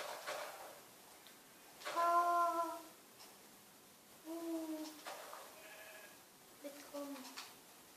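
Minecraft sheep bleat several times, wavering tonal calls spread across a few seconds, fairly faint with quiet background noise.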